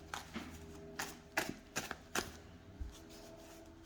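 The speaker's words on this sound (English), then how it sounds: "if you overhand shuffle like this, there's no sticking." Tarot de Marseille cards being overhand shuffled, giving a series of soft, papery slaps and brushes that come roughly every half second, close and fairly quiet.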